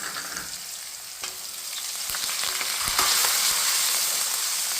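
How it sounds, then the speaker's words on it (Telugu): Onions, green chilies, curry leaves and garlic frying in a pan for a pumpkin dish, giving a steady close sizzle with faint stirring noises throughout, no voices. "ఉల్లిపాయలు వేసేద్దాం, వేపుకుందాం"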